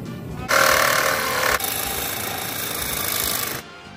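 A reciprocating saw cuts away the fuse panel area on a Honda Shadow motorcycle. It gives a loud, steady rasping buzz that starts sharply, eases slightly partway through and runs about three seconds alone before stopping.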